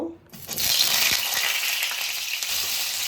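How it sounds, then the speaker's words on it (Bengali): Potatoes frying in white vegetable oil in a pan, a loud, steady hiss and crackle of sizzling that starts abruptly and continues without a break. "আলুগুলো আমি খুব ভালো করে ভেজে নেব"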